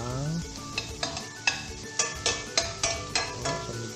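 Mixed seafood fries in butter in a pan, sizzling steadily under a rhythmic series of stirring scrapes and taps, about one every half second, heard up close with no talk.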